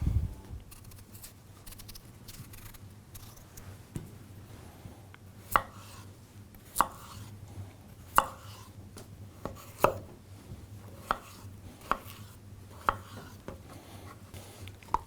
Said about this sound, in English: I'm going to go ahead and peel the potatoes and then cut them into chunks to make them cook faster